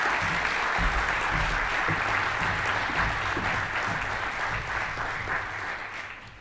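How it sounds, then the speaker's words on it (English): Conference audience gives a round of applause, dense steady clapping at full strength that gradually fades toward the end, with no voices over it. "Please, a round of applause."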